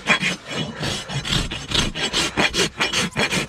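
A farrier's rasp bevels the outer edge of a horse's hoof wall, giving a steady series of close, rhythmic scraping strokes, about a dozen in quick succession.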